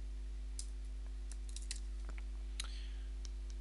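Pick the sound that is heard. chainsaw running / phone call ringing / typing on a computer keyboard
typing on a computer keyboard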